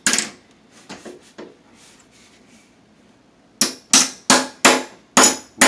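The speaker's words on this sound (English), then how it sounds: "We'll flatten that hinge out," A flimsy, cheap mobile home door hinge hammered flat, with a few light taps early and then six loud, evenly spaced metallic blows ringing close up.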